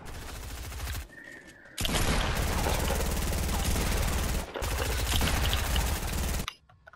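Gunfire from a favorite weapon in a video game, heard as loud, rapid automatic bursts in two long sustained stretches separated by a short pause, ending abruptly.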